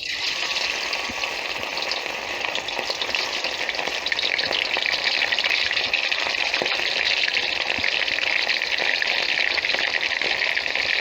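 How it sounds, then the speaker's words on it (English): Marinated prawns frying in hot oil in a wok give a loud, dense, continuous sizzle with fine crackling that swells slightly partway through and holds steady, close and without talk. "we heat up some oil in a wok, and I'm going to fry the prawns first"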